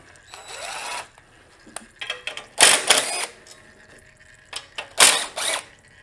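Ratchet driving self-tapping bolts back into the engine shroud of a Honda H1011 riding mower, heard as several loud, close bursts of rapid clicking separated by short pauses, with no talking.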